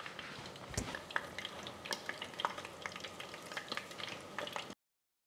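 Battered Korean-style fried chicken pieces frying in a fryer, a steady close bubbling sizzle with scattered crackles and pops, running alone without talk before cutting off.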